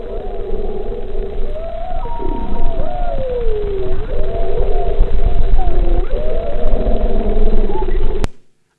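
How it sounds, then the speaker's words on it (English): A whale sings in the ocean, picked up by fiber optic mooring lines: long, loud, gliding moans and whoops rise and fall over a steady underwater rumble, then cut off abruptly. "moor lines become a microphone to hear our whale singing"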